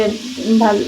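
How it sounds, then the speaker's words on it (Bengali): Fish fries crisp in hot oil on a tawa, a brief close sizzle heard alongside a voice. "মাছগুলো এখন কড়া করে ভেজে নেব।"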